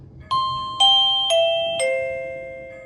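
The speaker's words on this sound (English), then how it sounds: "when the doorbell rings, it amplifies the sound" Four descending electronic chime tones from a Hornbill video doorbell ring out through a speaker in steady succession, each bright and sustained, fading slowly with no voices present.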